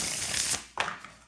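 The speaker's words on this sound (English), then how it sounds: "Oh, that shuffle's so nice." A deck of tarot-style cards is shuffled close up, a dense riffling rush for about half a second followed by a second shorter flurry, with no talking.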